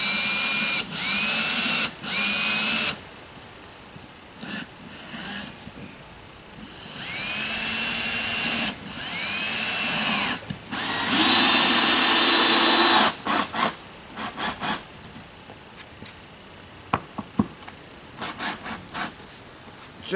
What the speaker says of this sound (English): Just countersinking a tiny bit into there.